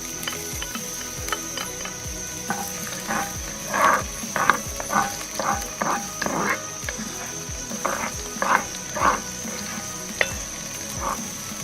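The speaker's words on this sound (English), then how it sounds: "Okay, so now I'm going to add the garlic." Garlic frying in a pan with onions, a steady sizzle with brief bursts and stirring scrapes that rise and fall, fairly close and moderately loud, no talk over it.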